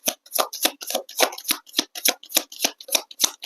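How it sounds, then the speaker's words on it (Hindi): Tarot cards shuffled by hand up close, giving a quick run of about a dozen crisp, papery riffling bursts in a steady rhythm, with no talking. "मैं सेकंड शफल कर रहा हूँ डिवाइन"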